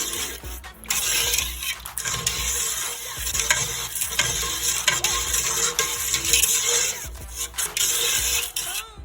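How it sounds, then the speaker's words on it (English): A spoon stirs old-fashioned cucumber relish with vinegar in a canning pot, loud close scraping and sloshing strokes over a sizzling simmer, repeating steadily with brief pauses. "I'm going to stir that up, and the recipe says to bring this to a boil, so I'm going to stir and bring to a boil."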